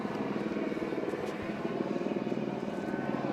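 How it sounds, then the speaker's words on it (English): A helicopter hovering overhead near an outdoor minor-league baseball game, its blade thump forming a steady, moderately loud drone that continues for the whole stretch with no talk. "we have a helicopter roaming overhead, so if you hear the hovering of blades, it's just a helicopter that's just staying in our area"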